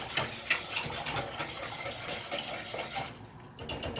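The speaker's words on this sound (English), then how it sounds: "We got to give this a stir." Pickled mixed vegetables being stirred in a pot on the stove, a spoon scraping and clinking against the metal in irregular strokes, close up, with a faint simmering sizzle underneath and a brief lull near the end.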